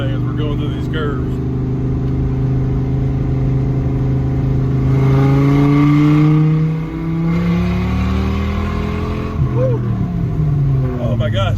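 A 1993 Dodge Viper RT/10 roaring loudly while driving through curves, the engine note rising and falling with gear changes in a steady, close drone, with people talking over it.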